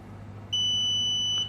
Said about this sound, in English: That's one beep.